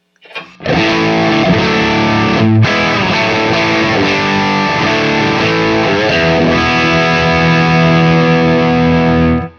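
A heavily distorted electric guitar through a Wampler Pantheon Overdrive pedal at its highest gain setting rings out loud and saturated after a brief pick noise, chords sustaining with thick, fuzzy overdrive for several seconds before cutting off.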